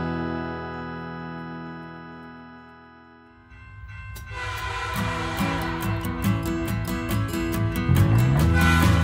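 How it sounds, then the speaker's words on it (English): Train horn holding a long steady tone, then a rolling train joins with rhythmic clacking wheels over the tracks, growing louder and busier toward the end over a sung children's tune. "Choo choo, here comes a train."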